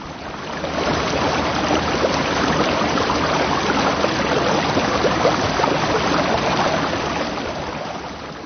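Swift river current rushing under a bridge, a steady broadband roar of flowing water that fades in and holds constant throughout, full and close with no voices.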